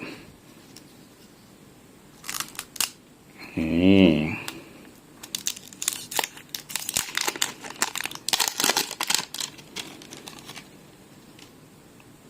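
Crinkling plastic and paper packaging as a Thai amulet package is cut open and unwrapped, with a brief snip then bursts of rustling and crumpling close up, and someone speaking briefly.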